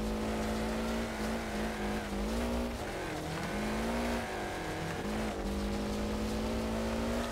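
Race cars of differing weight, power and handling in the video game Wreckfest roar with a continuous engine drone that rises and dips with gear changes, alongside tire squeal and scraping, loud and close throughout.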